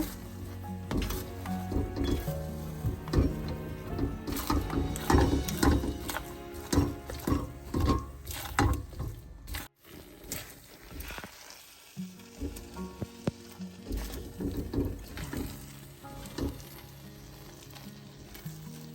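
Thick foxtail millet thothal sweet is stirred in an oiled pan, giving steady scraping, clacking and soft sizzling strokes up close, with a brief pause midway before the stirring resumes.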